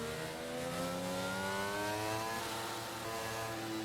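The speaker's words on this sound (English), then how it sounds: "Oh, he's revving." A race car engine revs repeatedly to burn fuel during the AFR sim-racing Grande Prêmio de São Paulo in Brazil, a loud, rising and falling mechanical whine that sounds close and steady with no talking.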